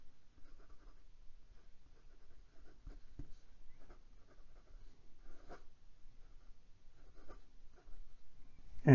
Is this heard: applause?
no